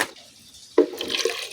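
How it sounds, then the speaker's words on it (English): Water poured in a short splash into a neem herbal mixture being prepared as a poultry remedy, a brief close pour after a quiet moment. "Shall just put some little water, because we had already measured our water there."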